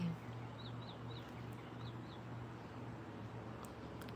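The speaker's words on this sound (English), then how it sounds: "Hearing the birds sing makes my morning." Soft, distant bird chirps repeat in a few quick pairs over a quiet, steady hum, faint and sparse.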